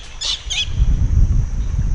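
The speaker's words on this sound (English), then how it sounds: "That's some kind of bird." Bird calling in a Thai mangrove swamp fisherman's village on Ko Chang, two short high chirps near the start over a low rumbling background.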